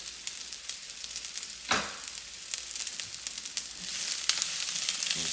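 Zucchini, ginger and garlic sizzle steadily in a hot pan, a bright crackling hiss that jumps with a burst as the food goes in and grows denser toward the end, with no voices.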